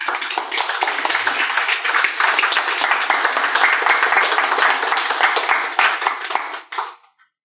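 An audience at a manifestation workshop claps loudly and steadily for about six seconds, then the sound tapers off and stops.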